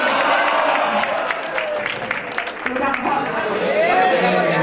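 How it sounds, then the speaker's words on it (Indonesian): Standing audience applauds at an Indonesian training gathering, a dense, steady wash of many clapping hands with crowd murmur, loud and sustained throughout. "yang berdiri tepuk tangan Pak"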